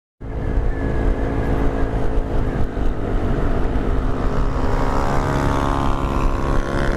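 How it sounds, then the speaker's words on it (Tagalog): Loud motorcycle engines roar steadily on a road, including a Rusi Rapid 150, heard up close as one continuous droning rumble with no voices over it. "Ang lalakas ng motor nila ang lalakas ng motor eh."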